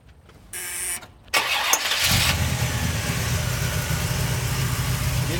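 A 1970 Oldsmobile Cutlass 442 tribute with a 455 V8, 750 carburetor, Hooker headers and Edelbrock manifold starts up: a couple of starter bursts, then the engine catches and settles into a loud, steady, rumbling idle.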